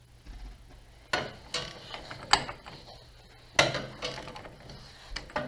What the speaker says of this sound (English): We are going to loosen the input shaft, and this is I'm turning counterclockwise.